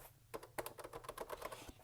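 Quiet, close typing on the keyboard of a Kvant Micro AVM computer, a quick irregular run of about a dozen soft key clicks.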